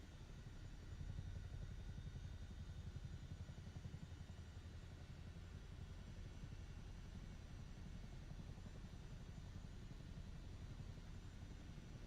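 A Chinook helicopter's engines drone in the video game MSFS 2024, a faint, steady low rumble with rapid rotor throb that holds unchanged throughout, with no voices.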